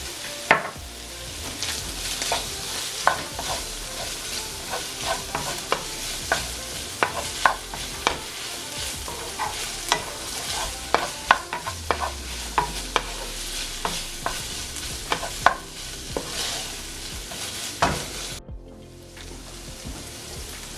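Ground beef sizzles and fries in a pan as a utensil stirs and scrapes through it, with repeated sharp clicks and scrapes over a steady hiss, close up and without talk.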